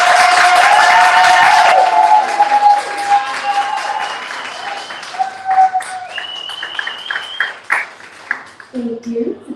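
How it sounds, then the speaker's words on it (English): An in-person audience at a poetry reading claps and cheers for the guests, loud at first and then thinning out into scattered claps, while whistles and tonal tones sound over it. "please join me in giving both of our guests tonight a round of applause"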